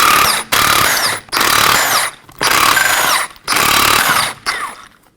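Pneumatic impact wrench loosening 19mm lug nuts on a Ford Transit Connect wheel: loud, close, buzzing bursts of about a second each, repeated four or five times with brief gaps between.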